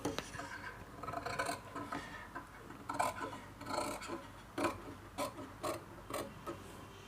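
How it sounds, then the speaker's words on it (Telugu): Scissors cutting blouse fabric for a size 36 blouse, a series of crisp snipping and rasping cuts in an irregular rhythm, close up and fairly quiet, without speech. "ఇప్పుడు కటింగ్ చేసేయండి"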